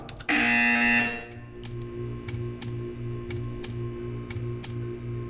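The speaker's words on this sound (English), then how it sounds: "You will hear a buzzer." A steady electronic buzzer tone in Portal 2 sounds loudly for about a second, then a faint periodic ticking and low pulsing hum continue in the background.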